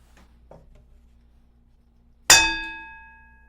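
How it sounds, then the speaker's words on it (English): A single bell is struck once in a quiet room, giving a sharp metallic strike followed by a clear, ringing tone that fades over about a second, heard alone and close. "That bell, is it inside this room or is it outside this room?"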